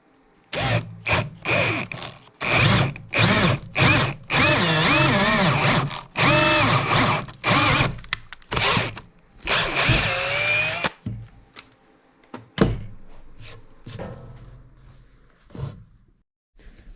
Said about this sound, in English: So now we're going to go through with our 1/2-inch drill bit.